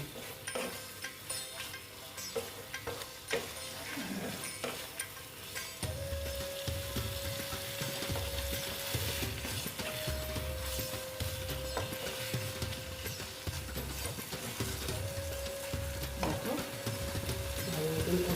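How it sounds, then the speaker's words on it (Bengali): Pointed gourd (potol) sautéed and stirred in a pan, giving a steady low sizzle broken by occasional spatula scrapes and clinks, with faint background noise throughout. "এখন পটলগুলো দিয়ে দিচ্ছি দিয়ে পটলের সঙ্গে একটু ভালো মতো কষিয়ে নেবো"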